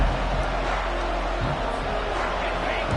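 A college football stadium crowd roars in a dense, sustained wall of noise, loud and continuous with no clear voices standing out.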